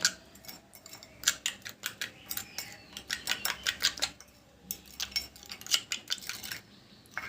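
Amla and henna leaf powder stirred into juice in a bowl, a rapid series of scraping clicks from the spoon against the bowl in uneven bursts, close and fairly quiet.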